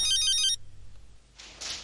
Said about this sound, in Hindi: एलिफ, बेटा उस लड़के का फोन आ रहा है।